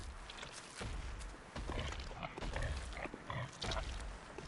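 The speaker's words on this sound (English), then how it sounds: "something's a bit odd about that pig" A pig in the video game Bloodborne grunts and snorts in a series of low, rough bursts over a dense, noisy background, with no talk.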